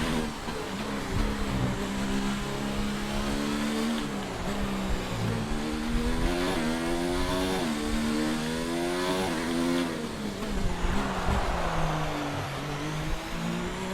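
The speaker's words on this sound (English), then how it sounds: "Seriously, that sound is so bloody fake." F1 racing car engines in the video game F1 2019 at the Singapore Grand Prix roar continuously, pitch rising and falling as they rev through gears, loud and close with no speech.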